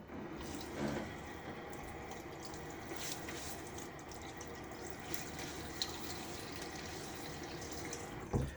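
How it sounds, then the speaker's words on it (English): Cool, hard tap water splashes onto a face at a sink before a shave, a steady running-water wash with soft splashes and a louder splash at the end. "Let's get my face wet."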